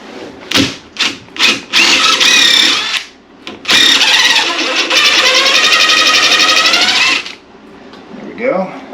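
A power drill whirs in several short bursts, then runs in a long steady drive, close and loud, while kitchen cabinets are being installed.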